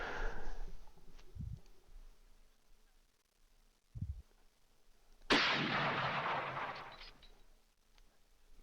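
Gunfire sound effects play during a Twilight 2000 tabletop role-playing session: two short, low thuds, then a sharp loud blast that decays into a long rumbling roar before fading.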